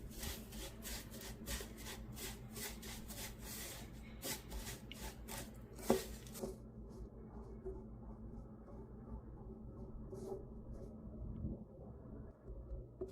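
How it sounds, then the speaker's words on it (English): Baklava mixture with condensed milk being stirred in a pan over very low heat, giving a close, faint, rhythmic scraping and rubbing of the spoon that thins out toward the end. "I will continue to keep stirring the mixture right here, making sure it stays always on a very low heat setting."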